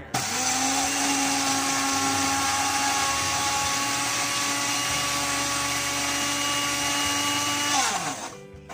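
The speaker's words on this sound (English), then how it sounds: "it's going to go over, make a whole lot of noise, and we're going to grind this up till it's super fine" A food processor grinding ingredients until super fine, a loud, close, sustained motor whine lasting about eight seconds before winding down.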